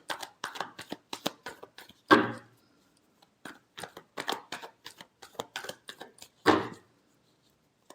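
Tarot cards are shuffled by hand in a quiet room, giving rapid crisp flicks in quick clusters, each run capped by a louder riffling burst.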